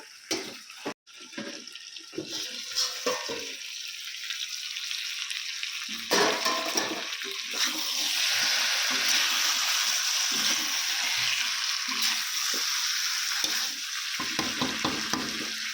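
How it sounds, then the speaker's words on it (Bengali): Mutton curry with potato and papaya frying and being stirred in a pan, a steady close sizzle with scraping stirs and occasional clatter, no talk. "আলু আর পেঁপেটাকেও দিয়েও কিন্তু আমি আরও কিছুক্ষণ চাপা দিয়ে কষিয়ে নেবো"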